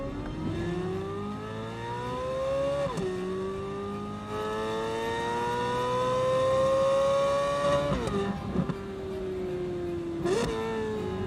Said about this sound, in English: I and everybody else in Pennsylvania is hearing the exhaust.